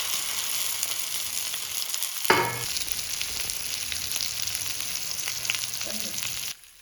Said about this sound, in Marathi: फ्राय करायला ठेवायचं.